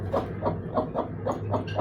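A hen, among Golden Misri and Aseel chickens, clucks in a steady series of short, evenly spaced calls, about six over a couple of seconds, fairly quiet and close.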